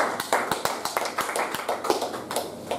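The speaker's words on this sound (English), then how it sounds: "So let's give a big round of applause for him" Audience applause at a Toastmasters club meeting, a small group clapping steadily with crisp, distinct hand claps close by, sustained for a few seconds without talk.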